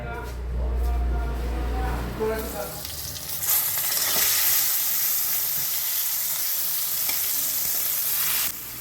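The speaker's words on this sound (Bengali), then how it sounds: "পটলগুলো একটু ভেজে নিচ্ছি" Pointed gourd (potol) fries in hot oil in a home kitchen with a loud, steady sizzle that flares up after a low rumbling start and holds for several seconds, a voice speaking briefly at the beginning.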